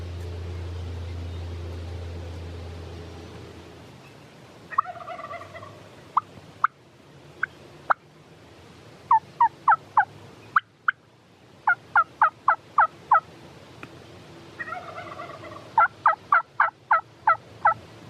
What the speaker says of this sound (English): that other turkey gobbled back behind us.